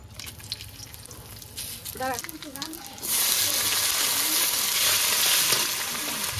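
Spices hit hot oil for cooking taro leaves: black cumin, cumin, radhuni, dried red chilli and bay leaf. A loud, steady sizzle starts abruptly midway and continues, with a voice talking earlier.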